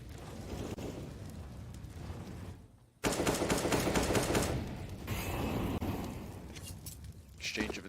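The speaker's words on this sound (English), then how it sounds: "Exchange of incendiaries, frag comes over." Grenades and incendiaries exploding on the Inferno map in a Counter-Strike match, a dense roar of blasts and burning with rapid gunfire bursts under continuous commentary, one sharp cut to louder fire midway.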